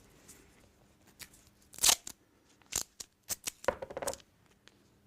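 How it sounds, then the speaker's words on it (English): Masking tape rips off the roll in a few sharp, close bursts, followed by softer crinkles as it is pulled back and pressed down onto a wooden box. "hold it in place with a little bit of masking tape"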